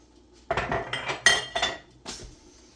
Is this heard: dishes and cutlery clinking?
yes